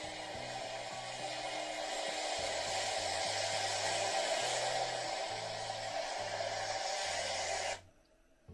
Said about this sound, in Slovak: Kto by náhodou biely šum ešte nepoznal, tak znie to asi takto nejako